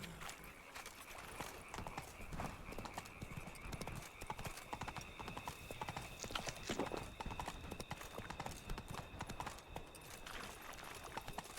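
Roach the horse galloping in The Witcher 3: Blood and Wine, a fast steady drumming of hoofbeats that runs throughout, fairly faint, with a brief whinny mixed in.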